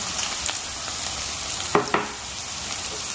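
Whole spices, cinnamon pieces and cloves, sauté in hot oil in a pan. A steady, close sizzle runs throughout, with a couple of brief stirring clatters.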